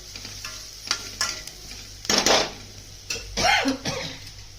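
Okra bhurji seasoned with salt stir-fries over high flame in a pan, with a low sizzle broken by several intermittent scraping stirs of the spatula.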